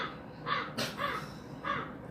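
Crows cawing, three or four harsh caws spaced about half a second apart, fairly close and clear over faint background noise.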